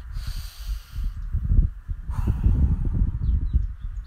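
Forceful breaths during a French morning muscle, joint and breathing routine, heard as repeated loud, rough puffs of air from close by with a steady rhythm.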